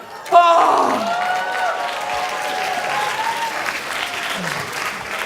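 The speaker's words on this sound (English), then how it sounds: "The crowd goes wild." A crowd cheers and claps wildly after a touchdown, with loud, sustained applause and a shouting voice rising at the start, then settling into a steady wash of clapping.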